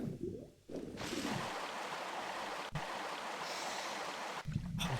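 Flowing water in the Tomb Raider 1 video game, a steady broadband rushing wash that holds at moderate loudness for most of the stretch, with no one speaking.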